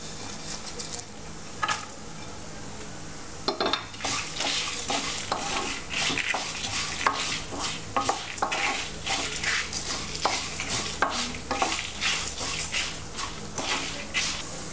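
Spices for Andhra-style karam podi stirred and fried in a pan on the stove, a steady scraping of the spatula with repeated metallic clinks and a low sizzle, close and continuous.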